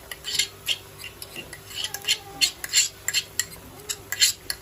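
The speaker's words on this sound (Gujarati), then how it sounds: "અને મિક્સ કરી દઈશું, સરસ રીતે મિક્સ કરી દેવાનું છે." Spoon clinking and scraping in a bowl while ketchup and mayonnaise are mixed into a sauce for homemade dry cabbage Manchurian, with repeated close, light taps and scrapes.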